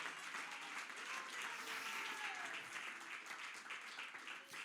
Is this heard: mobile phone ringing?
no